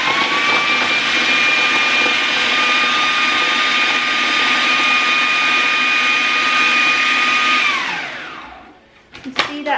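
A kitchen blender whirs at a loud, steady high pitch for about eight seconds, then winds down and stops, followed by a few brief clatters.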